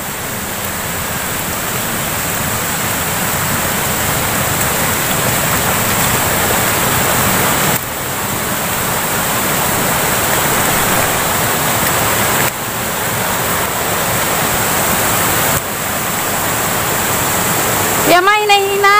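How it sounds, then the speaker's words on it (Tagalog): Floodwater in a swollen creek rushes in a loud, steady roar that fills the whole stretch, with a brief splash of movement near the end. "Dahil malakas yata ang baha sa sapa."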